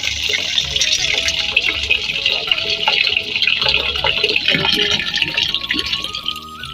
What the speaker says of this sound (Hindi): ये देखिए गंदा पानी फिर ऊपर आ गया है और पानी डाल दें।